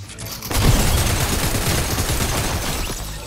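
Rapid burst of shotgun gunfire in a video game, dense overlapping blasts erupting loud and close after a brief quieter start, sustained for a few seconds.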